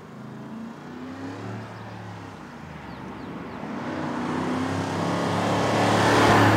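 An Audi SQ8 SUV climbs a mountain road in the Pyrenees, its engine humming and then building steadily louder as it accelerates.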